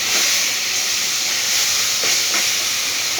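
Green chillies hit a hot pan of kochu (taro) leaves, giving a steady, loud hiss of sizzling oil that holds evenly throughout with no voices.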